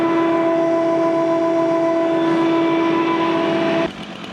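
A 12-volt oil cooler fan spins on a Japa 365+ tractor PTO-powered firewood processor, giving a loud, steady droning hum with strong tonal harmonics that cuts off abruptly near the end.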